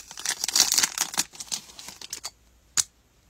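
Plastic packaging around a pair of My Melody scissors crinkles and tears in a quick burst of rustling, ending with one sharp snap, close and without speech.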